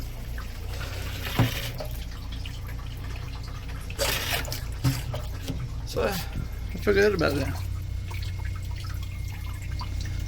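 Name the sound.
water pump running water from 1 gallon tank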